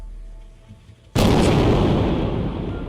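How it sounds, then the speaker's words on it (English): A bomb explosion bursts suddenly out of a low hum at night, a single loud, sharp boom followed by a long, rumbling, noisy roar that stays heavy to the end. "And all you hear are explosions."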